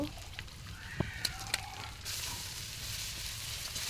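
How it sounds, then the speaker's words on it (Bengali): Onions and chilies frying in a pan, a soft, quiet sizzle with a few brief clicks and taps early on, the crackle swelling somewhat brighter in the second half. "পেঁয়াজ মরিচ সুন্দর করে ভেজে নিচ্ছি লাল লাল করে"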